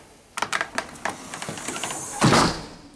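A screen door on a newly installed closer swings shut with a few quick rattling clicks and taps, then a louder soft thud and brief clatter as it settles against the frame, close by.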